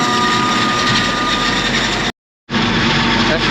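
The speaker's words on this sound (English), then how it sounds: "we're gonna send off the video with a little bit of chopper" A corn forage chopper runs with a loud, steady mechanical roar and gear clatter, broken by a short total silence near the end before the drone resumes.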